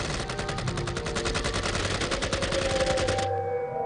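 An AK-47 Kalashnikov rifle fires a long sustained automatic burst, rapid evenly spaced loud shots for about three seconds before cutting off, leaving a fading ring and hum.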